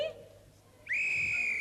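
A referee's whistle sounds at a televised 1983 Christmas It's a Knockout team game, a short lower toot followed by a loud sustained shrill blast.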